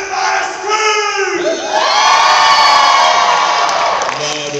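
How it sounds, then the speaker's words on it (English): A large crowd screams and cheers at a remix performance, the roar swelling after a second and holding loud and sustained with shouts and whoops throughout. "Everybody scream."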